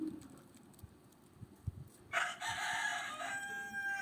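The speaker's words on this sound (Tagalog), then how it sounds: "sa mga manok dito. Masyadong maingay." Roosters crow loudly nearby in one long raucous call that starts halfway through, after quiet background rustling and faint thumps.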